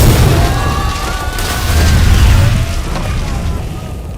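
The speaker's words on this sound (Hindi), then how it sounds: "टनकपुर के कलेक्टर ऑफिस में धमाका हुआ है" A deep, sustained rumbling roar of an explosion blast at a collector's office in the film Kavan, loud and continuous with low booming swells throughout.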